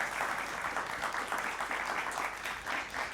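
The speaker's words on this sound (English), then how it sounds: "Big round of applause for Team NextPlay AI." An audience at a competition winners' showcase claps for a team in a continuous round of applause, dense and even throughout, moderately loud and without talk over it.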